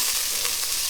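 Tomato paste sizzles in a hot pan, a brief, even hiss of frying heard up close.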